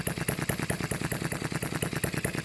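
A small HM-01 model engine runs steadily at close range, chugging in a fast, even rhythm of regular firing pulses with a mechanical clatter and no voices.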